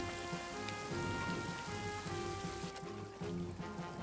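Rain falling in the World War I trench game Nerves - All Quiet in the Trenches, a steady faint hiss of drops on surfaces with a low rumble beneath.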